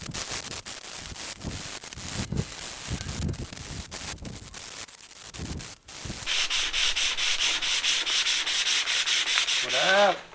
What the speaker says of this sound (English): Going over with some sandpaper.